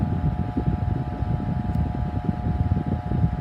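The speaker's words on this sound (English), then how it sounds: "I just have a heater to help keep me warm while I customize." A space heater runs in a cold room with a steady, even whoosh of blowing air and a faint tonal hum, continuous and close, with no voices.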